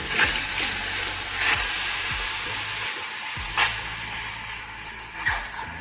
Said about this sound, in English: And now simmer on very low for about 5 minutes.